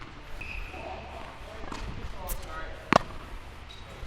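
A tennis ball struck with a natural gut string racket during mini court rallying gives one crisp, short pop late in the clip over a quiet, faintly noisy background.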